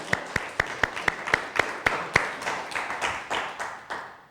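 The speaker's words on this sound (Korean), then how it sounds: "여러분, 이때는 박수를 쳐야 됩니다." A church congregation in a Sunday service claps together in a steady, even rhythm, about a dozen and a half sharp claps that soften into looser applause and then fade.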